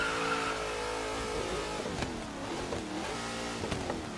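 A Chevrolet Nova in Forza Horizon 3 slides sideways after a handbrake pull, its engine note droning and wavering up and down in pitch with tire scrub, loud and steady with no talk.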